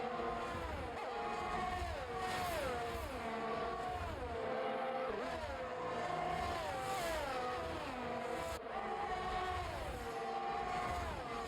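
Race cars accelerate hard after a green-flag restart at a Saudi Arabia race, several engines revving loudly and continuously together, with rising and falling pitch sweeps as they pull away and shift.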